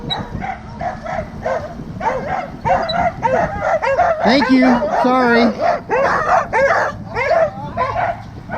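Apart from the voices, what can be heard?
dogs barking at passing recumbent bike riders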